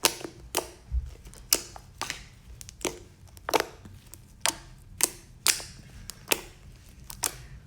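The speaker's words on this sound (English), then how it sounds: "This slime is super clicky and it's super stretchy now that I've deactivated it." Clicky slime is stretched and squeezed by hand, giving a string of sharp, close snapping clicks and pops at an irregular, roughly half-second rhythm, with no talking.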